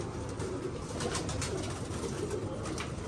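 Pigeons coo in a steady, continuous murmur close by, with no voices over them.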